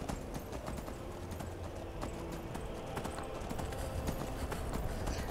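Horse hooves clip-clop in modded Skyrim, a steady moderate walking rhythm over a dense wash of game ambience, with no talk.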